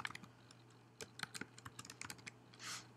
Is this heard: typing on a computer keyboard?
yes